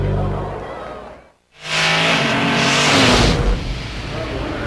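NASCAR stock cars racing at Pocono Raceway during the Pennsylvania 500, loud roaring engines sweeping past nearby, a brief dip to near silence, then a sustained roar of passing cars under a commentator's voice.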